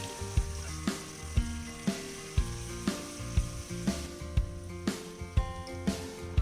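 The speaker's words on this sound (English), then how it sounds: "stir it well and fry for another 5 minutes." Pork with ginger, garlic and onion sizzles in a pan while being stirred, a soft steady fry broken by regular clicking knocks from the utensil roughly every half second.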